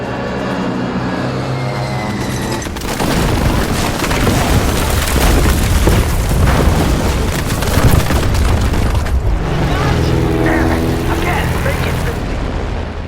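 Heavy booming blasts and rumbling aircraft gunfire firing on soldiers in a war film roll continuously, loud and dense, with a voice speaking over parts of it.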